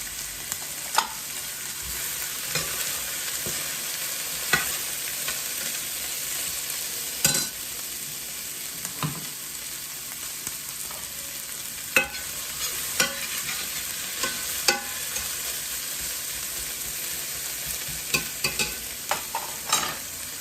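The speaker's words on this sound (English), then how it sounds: "And the rice is frying." Steady, close sizzling of rice frying in a pan, with scattered scrapes and clacks of stirring throughout and no voices.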